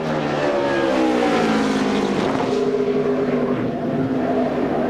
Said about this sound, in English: Sounds like an Indy car when it goes by.